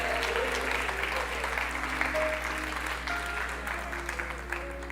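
A congregation applauds during a church service, dense steady clapping filling the hall with a low hum underneath and some faint voices mixed in.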